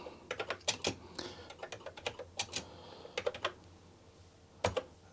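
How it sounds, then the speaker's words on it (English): Fingers tap on a Commodore 64 keyboard in uneven bursts of crisp, close keystrokes with short pauses between, fairly quiet and with no talking. "I think you need to type it in uppercase"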